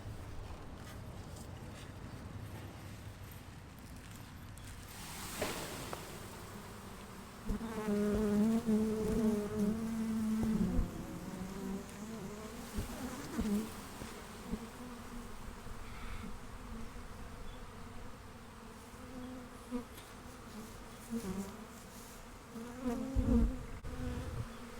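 A dense, droning buzz of a swarm of honey bees fills the air continuously, with occasional louder close passes and some handling bumps.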